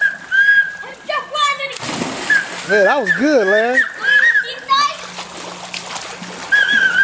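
A person jumps into water with a splash in the middle of the clip. Whistling and excited voices can be heard around it, including a child.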